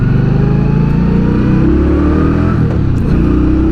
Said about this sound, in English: This is factory exhaust, and it's not even that loud.